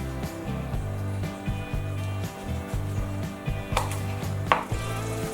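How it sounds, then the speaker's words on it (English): Knife slicing through food on a board while making roasted tomato avocado toast, a run of close, rhythmic cutting strokes heard over a steady musical background. "And I'll just cut this into slices."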